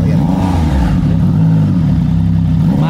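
A new 2025 Triumph Trident 660 still in break-in and limited to 4,000 RPM, fitted with an IXIL full exhaust, burbles loud and close, its rev rising then settling into a throbbing idle.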